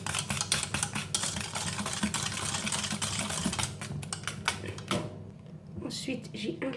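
Oil and granulated sugar stirred together in a bowl for homemade brownie batter, a busy clattering whisk-and-scrape rhythm close by that stops abruptly near the end, with someone talking over it.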